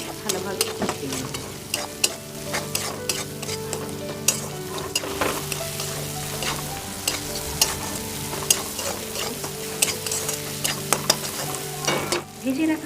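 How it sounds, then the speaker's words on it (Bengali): Ground black pepper, chilli powder and garam masala being stir-fried in a pan for a Bengali chicken curry, with steady sizzling and frequent scraping, clinking stirs throughout, close and continuous with no talking. "এবার সবটা বেশ ভালোভাবে কষিয়ে নেব।"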